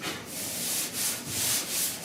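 A sanding block with 80 grit sandpaper scrubs body filler on a 1966 Ford F100 dash and firewall, a continuous raspy rubbing with rhythmic back-and-forth strokes, close and steady.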